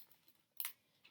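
A quick, crisp snip of scissors cutting through paper for a bougainvillea bloom craft, one short isolated cut in a quiet room.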